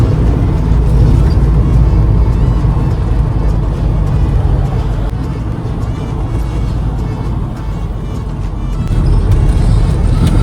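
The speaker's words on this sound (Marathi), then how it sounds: "बाहेर काढूया गाडी." A vehicle is driven out with a loud, close, continuous engine drone and road rumble that dips slightly midway and then rises again, with no speech.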